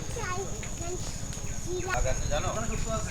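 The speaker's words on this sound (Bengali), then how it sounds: "একটু সামনে এগিয়ে যেতেই ঝিঝি পোকার ডাক শুনতে পেলাম।" Crickets in the Sundarbans forest keep up a steady, thin high drone throughout, with a person talking over it.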